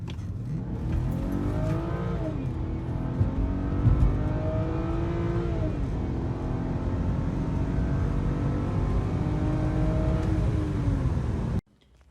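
BMW 328i xDrive with an N52 inline-six running a Bimmerlabs 330i tune on the stock manifold, accelerating hard through several gears with rising and falling engine pitch, loud and close throughout before cutting off abruptly at the end.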